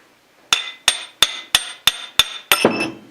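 A hammer strikes a drift on a South Bend toolpost grinder spindle: seven sharp, evenly spaced metallic taps up close, the final blow followed by a brief rattling clatter as the part shifts.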